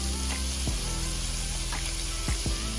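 Shrimp fried rice with rice and eggs sizzles loudly in a hot pan, a dense continuous crackle with a few scraping stirs of the spatula.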